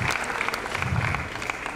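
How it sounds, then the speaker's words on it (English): Squash crowd at the CCI International 2017 final applauding steadily and fairly loudly throughout, a dense patter of clapping with a brief faint voice underneath. "there we see the crowd"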